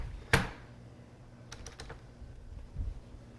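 A computer keyboard gets a few sparse key presses at a PC build, starting with one sharp click and followed by a quick cluster of three light taps, close and quiet, with no talk.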